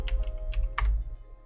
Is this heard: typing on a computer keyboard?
yes